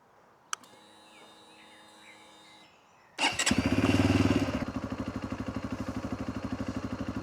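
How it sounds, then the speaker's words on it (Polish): A QJ SRT 125 DX motorcycle engine cranks after a few quiet clicks and catches at once, rising to a loud rev and then settling into a steady, rhythmic idle close by. "a może spróbuję go odpalić i zobaczymy"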